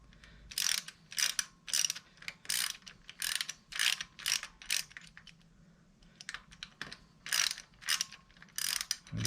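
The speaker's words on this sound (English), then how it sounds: "And we're going to get that oil filter taken off. And that's the 8mm. I should have used a smaller socket for it" A socket ratchet loosens the 8mm bolts of the oil filter cover on a 2022 CF Moto 300NK motorcycle, close repeated bursts of rapid clicking with short pauses between strokes.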